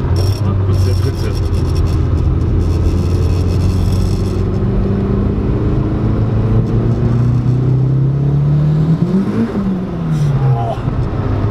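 A turbocharged 1.8T VW Lupo GT30 pulls hard in third gear, its engine note climbing loud and close with a rising whine inside the cabin while occupants talk over it.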